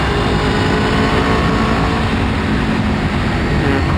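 Aprilia Tuono 1100 V4 motorcycle engine on a mountain hill climb, a loud steady close-up roar with dense low rumble throughout, no talk.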